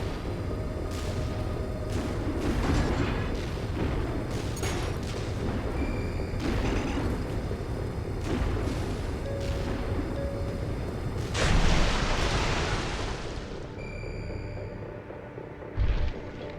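Detonations in Halo: Reach, a series of deep booms and bursts over game background noise, with one larger blast near the end and a sharp thump just after.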